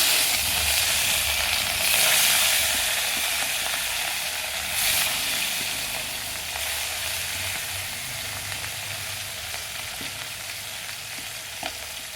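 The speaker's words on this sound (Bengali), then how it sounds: "তেল হয়ে গেছে, এবার মাছ খোলায় দেবো।" Fish frying in white oil in a pan, a dense, steady sizzle and crackle sustained throughout, close and even, easing slightly toward the end, with no one speaking.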